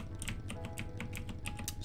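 Quick, uneven clicks of a computer keyboard being typed on close to the microphone, a run of light taps at an irregular rhythm over a low background hum.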